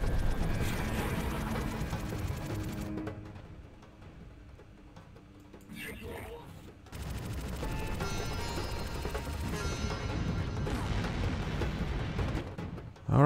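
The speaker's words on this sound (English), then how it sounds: "And they're firing a torpedo." Torpedo fire in the space strategy game Distant Star: Revenant Fleet, heard as loud rumbling booms and blasts that drop to a quieter lull, then swell again into a dense, sustained barrage with a sharp burst at the end.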